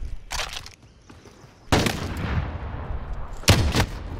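Gunfire in the video game Call of Duty: Modern Warfare comes as a few sharp, loud bursts of shots with echoing tails between them.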